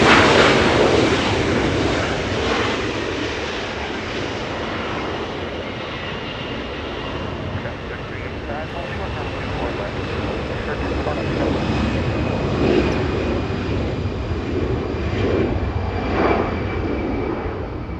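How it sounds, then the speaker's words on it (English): Japan Airlines jet airliner, flight 61 heavy bound for Tokyo Narita, taking off from runway 24 left at Los Angeles International Airport: a loud, steady broadband engine roar that swells slightly and holds throughout. "Japan Airlines 61 flying to Tokyo Narita"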